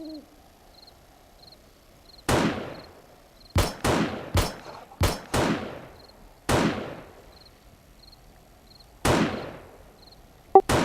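Gunfire in the video game 7 Days to Die: about ten sharp, loud single shots in an irregular rhythm, each with a short decaying tail, over a quiet background with a faint repeating high chirp.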